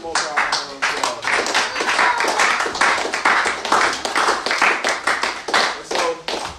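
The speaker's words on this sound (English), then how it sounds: "Give them all a round of applause." A crowd claps at a Feast of Dedication teaching gathering, loud and close, a dense run of quick overlapping hand claps that holds steady throughout with small dips and swells.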